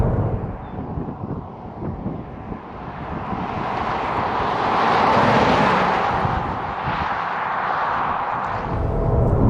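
A 2024 Cadillac XT4 AWD Sport pulls hard out of a bend, its engine building in a steady, swelling drone under broad wind and road rush that rises midway and stays loud to the end.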